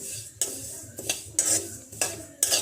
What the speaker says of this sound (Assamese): আৰু এই তিলখিনি মই অকনমান ভাজি লম